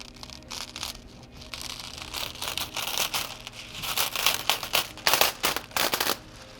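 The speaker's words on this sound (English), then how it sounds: "Now that our garment has cooled down, we're going to go ahead and remove our foil." Heat-applied foil peeled off a printed garment, a close crinkling and crackling tear that grows louder and choppier toward the end as the sheet comes away.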